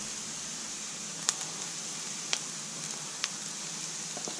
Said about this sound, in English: we'll just fry that, roast that powder off for a minute or two